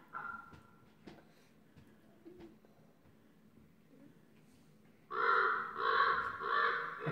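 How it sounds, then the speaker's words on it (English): A crow sound effect during a tabletop fantasy game session: after quiet room noise and faint movement, three loud harsh caws ring out in a row near the end. "A crow."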